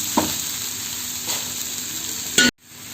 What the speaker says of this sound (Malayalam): എന്നിട്ട് നന്നായിട്ട് മിക്സ് ചെയ്ത് കൊടുക്കാം.